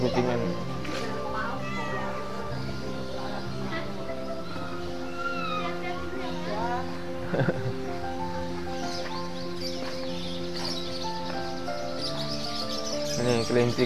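Cats meow repeatedly at an animal market in Yogyakarta, close and clear over a busy bed of bird chirps and background chatter, with people talking nearby.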